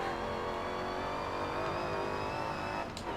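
A Honda Odyssey race car in Forza Motorsport 7 holds a loud, sustained high-revving engine note as it accelerates through the gears, ending with a brief shift dip near the close.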